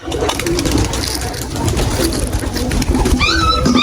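Pigeons coo in low, throaty bursts against a busy, steady background noise, with a few higher bird chirps near the end.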